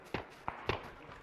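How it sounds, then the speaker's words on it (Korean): Three faint, sharp gunshot pops from a video game ring out in quick succession, distant and quiet. "총소리가 들리죠?"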